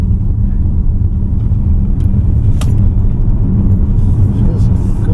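A 2025 Lynk & Co 01 PHEV on a road test drive gives a loud, constant low cabin rumble of road and engine noise, with a brief higher whoosh in the middle.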